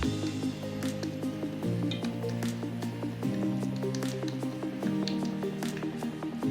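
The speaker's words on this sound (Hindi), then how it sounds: "अब चिकन मिक्स को कबाब की शक्ल दें।" Minced chicken chapli kabab mixture is pressed and shaped into patties by hand, giving soft, wet squishing and slapping sounds at an irregular pace over a steady low kitchen hum.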